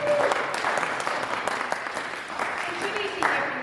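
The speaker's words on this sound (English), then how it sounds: "A round of applause as we begin our." An audience at a book launch for Dele Ogun's book on Nigeria applauds in a continuous patter of many hands, moderately loud, while a voice talks over it.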